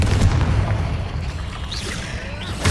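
Confringo blasting spell explosions in the video game Hogwarts Legacy, a loud booming blast at the start that rumbles and fades, with further impact crackle near the end, spell shouts around it.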